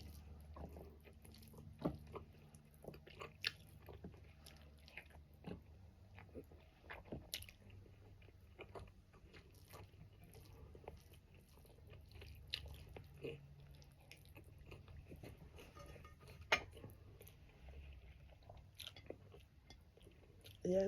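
Someone eats sarsiadong tilapia stewed with plenty of tomatoes and egg, making soft, close chewing and small biting sounds over a quiet room, with faint low background murmur.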